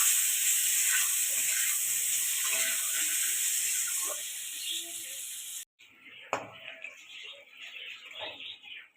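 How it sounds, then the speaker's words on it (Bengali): A steady loud sizzle of potatoes frying in hot oil with turmeric, then the hiss drops away and quieter crackling and clatter continue with soft voices nearby. "এই আলুগুলো লাল লাল করে ভেজে নেব"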